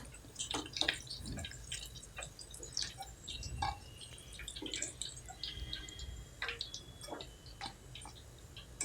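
Chicken pakoda pieces deep frying in hot oil, a continuous crackling sizzle dotted with sharp pops and ticks, close and steady throughout without speech.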